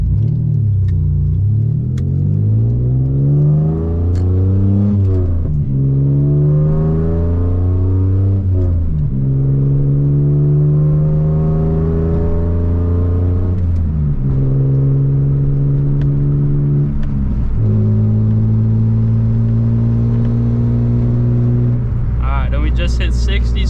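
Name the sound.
Mitsubishi Eclipse accelerating from 0 to 60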